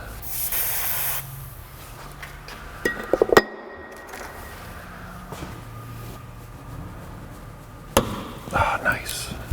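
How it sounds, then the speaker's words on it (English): Penetrating oil sprayed from a can onto a car brake bleeder on a 2003 Nissan Sentra: short hissing spray bursts amid faint clinks and garage handling noises, close and fairly quiet. "why not a little bit of penetrating oil in that bleeder"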